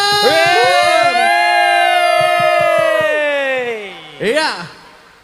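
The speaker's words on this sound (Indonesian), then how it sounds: "berikan tepuk tangan yang meriah Deddy Corbuzier" A university auditorium crowd welcomes Deddy Corbuzier with loud cheering and whoops: long drawn-out shouted voices over scattered clapping, fading briefly before a fresh burst of yelling near the end.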